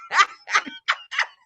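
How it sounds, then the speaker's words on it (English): A dog barks four times in quick succession, sharp and fairly close, with short gaps between barks and no talking. "He in the back barking over there."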